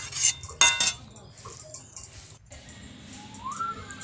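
Curry being stirred in a cooking pot after garam masala powder goes in, with a few sharp metal clinks of a spoon against the pot early on, then quieter scraping and faint background sounds.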